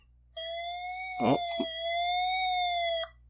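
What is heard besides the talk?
siren sound in a city-building video game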